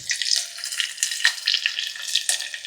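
Ingredients for idli sambar frying in hot oil, with a steady, close sizzle and crackle running throughout and small bursts of spattering, no talk.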